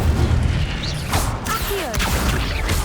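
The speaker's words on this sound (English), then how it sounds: "Incendio." A burst of Incendio fire-spell magic in Hogwarts Legacy, a loud rushing blast with booming impacts and crackling effects over a dense game soundscape, sustained for about three seconds.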